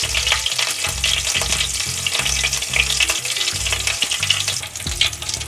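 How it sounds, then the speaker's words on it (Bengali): Oil heating in a kadai, a close, steady sizzle with light crackles and stirring scrapes running under rhythmic background music. "আমি এবার এই কড়াইতে আর একটু তেল দিয়ে নেব"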